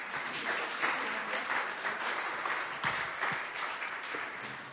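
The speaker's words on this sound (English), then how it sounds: "Applause for them, please." An audience at a conference on historic city disaster resilience applauds the presenters. The clapping is steady and dense and fills the room for several seconds, with faint speech beneath it.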